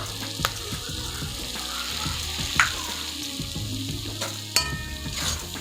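Kashmiri chili powder stirred into a jackfruit seed curry frying in a pan: a steady close sizzle with a few sharp scrapes of the spoon against the pan, and no talking.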